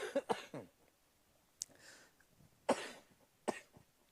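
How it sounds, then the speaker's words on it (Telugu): Several sudden coughs and throat-clearing bursts break out at a worship-night gathering, sharp and fairly close, separated by quiet pauses. "సడన్గా దగ్గు"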